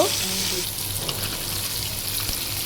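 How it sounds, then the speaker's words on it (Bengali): Chopped onion, green chili, salt and garam masala being stir-fried in hot oil for a samosa filling, a soft steady sizzle with light stirring scrapes, no talking. "সাথে এখানে পেঁয়াজ কুচি দিচ্ছি, মরিচ কুচি দিচ্ছি, লবণ দিচ্ছি, গরম মশলা দিচ্ছি, হালকা করে একটু নেড়ে নিব।"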